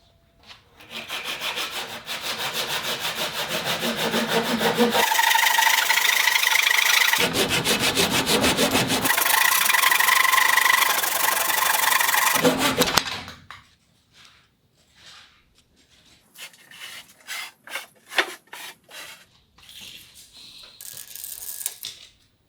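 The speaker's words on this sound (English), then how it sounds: "this leg over here is sticking up a little bit, so I need to trim it somehow" A protruding wooden leg of a cabin table or deck is trimmed with long, steady, loud back-and-forth saw strokes for about thirteen seconds, followed by quieter intermittent rasping and scraping of the wood.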